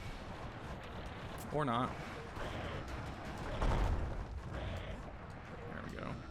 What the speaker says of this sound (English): hit them with one Mansur missile